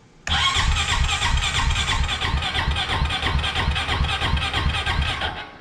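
Honda EFI engine with Keihin fuel injection cranking but not starting: a loud starter whir and squeal begins abruptly and churns steadily for about five seconds, then cuts off, with no catch or idle.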